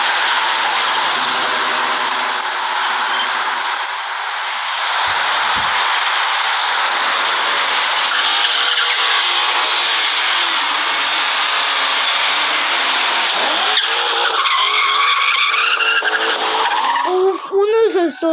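A BMW car's tires skid at length with a loud, continuous rushing screech under the engine's roar, rising into sharper squeals near the end.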